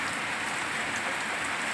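Steady rain falling outside, a dense, even patter on surfaces that continues without a break, fairly close and alone with no voices.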